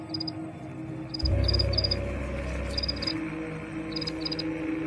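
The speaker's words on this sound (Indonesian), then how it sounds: "Kemudian Ethan pun langsung pergi dan mendengar suara jangkrik." Short bursts of high, pulsing cricket chirps repeat in small clusters over a steady background hum, with a low rumble swelling briefly in the middle.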